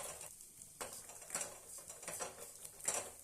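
Flattened rice (aval) roasting in ghee in a pan over a very low flame: soft scraping and light rustling patter with faint clicks of a spoon against the pan, quiet and continuous.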